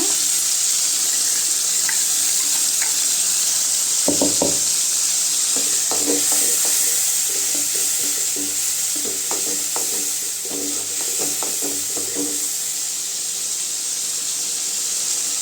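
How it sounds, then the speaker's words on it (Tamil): Ground tomato hitting a hot pan for bitter gourd kuzhambu: a continuous close sizzle with bursts of spoon scraping and clattering against the pan partway through, then the frying settles into a steady hiss. "இப்போ தக்காளி சேர்த்துக்கலாம் தக்காளி அரைச்சி எடுத்துக்கிட்டேங்க"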